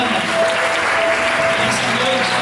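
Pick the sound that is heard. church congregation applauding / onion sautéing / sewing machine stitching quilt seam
church congregation applauding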